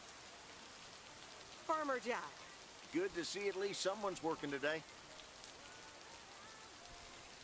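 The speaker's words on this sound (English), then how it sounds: "It's rainy here as I'm recording as well." Steady rain falls outside throughout, a soft continuous hiss under a spoken line in the middle and lingering on after the talk ends.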